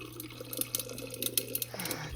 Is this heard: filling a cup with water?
yes